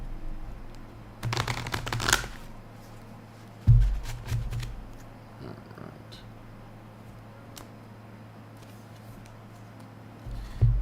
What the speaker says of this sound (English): Let me shuffle the deck.